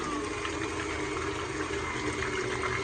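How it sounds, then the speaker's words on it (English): Churned cream has split into butter and buttermilk, and the liquid sloshes and swirls in a continuous, even wash at close range without a break. "once it starts that sloshing, it has separated"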